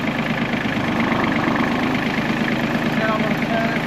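A tractor engine runs continuously at a steady, loud idle with a dense, rumbling drone that does not change through the clip.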